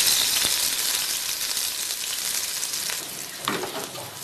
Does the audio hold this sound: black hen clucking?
no